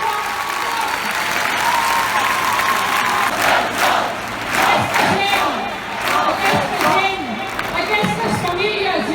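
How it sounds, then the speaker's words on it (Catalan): Large crowd at a rally applauding and cheering, loud sustained clapping with shouts and chanting voices rising over the noise. "Aplaudeu-los!"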